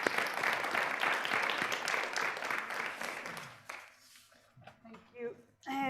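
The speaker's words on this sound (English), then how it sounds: "a big round of applause for Gabriel here in the room" Audience applause in a conference room for a speaker at a social innovation event, sustained dense clapping for several seconds that dies away into quiet, followed by a voice speaking.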